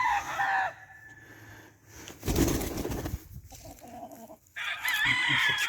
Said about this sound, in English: That's what you call a good rooster right there now.